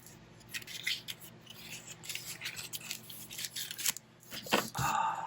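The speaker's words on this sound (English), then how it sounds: "can I use my scissors and just..." Scissors snipping and rasping through a subscription box's packaging, a run of short scratchy cuts and rustles at close range, with no one talking over them.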